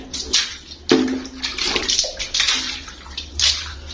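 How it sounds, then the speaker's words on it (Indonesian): Water sloshes and splashes across a tiled bathroom floor as it is rinsed after scrubbing off moss, in a few uneven pours and splashes close by, with no talking. "saya gosok-gosokin gini, saya siram sekali lagi"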